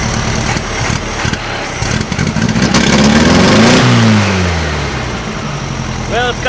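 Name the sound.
1956 VW Beetle engine revving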